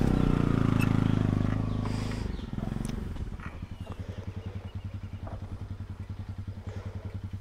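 A motorbike engine revs loud and close, then settles into a rapid, rhythmic putter as it rides past, with some clatter and a muffled voice briefly.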